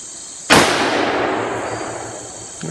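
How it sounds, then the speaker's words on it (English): A single loud rifle shot from a Henry side-loading rifle firing 200-grain Hornady ammunition at an outdoor range, a sharp crack followed by a long decaying echo, with no talk. "Let's see what happens when we fire a shot."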